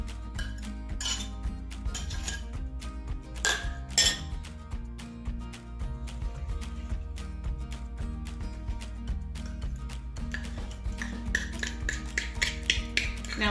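Energy bite ingredients are stirred together in a bowl with a wooden spoon, giving repeated light clinks and scrapes that run steadily at a fairly low level, with no talking.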